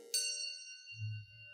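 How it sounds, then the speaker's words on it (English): A Schulmerich silver melody bell is rung once, giving a clear, bright, sustained ring that fades slowly and sits alone with a soft low rumble underneath. "We play a 2-octave set of Schulmerich silver melody bells"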